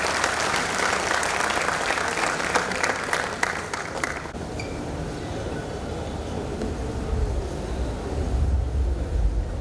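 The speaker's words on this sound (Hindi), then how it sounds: "तालियों की करतल ध्वनि से हम उनका अभिनंदन करें" A crowd applauds loudly and continuously at an honours ceremony in Udaipur, the clapping dense and steady, easing slightly partway through but carrying on to the end.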